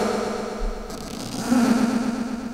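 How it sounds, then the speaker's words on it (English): Sampled cello sounds, taps, hits and smacks on the body, along with sampled vocals, triggered from a Buchla Thunder controller, giving a hazy, echoing texture with a low tone swelling midway, fairly quiet and alone. "I had recorded a bunch of just crazy cello stuff, like tapping it and hitting it and smacking it and all the tappings."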